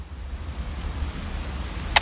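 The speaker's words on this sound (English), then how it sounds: "But 40-foot waves off the coast of Washington send the house and Odin to the bottom of the sea." Deep rumbling ocean waves in What Remains of Edith Finch, set off the coast of Washington, form a steady low roar with a windy wash, ending in a short sharp burst.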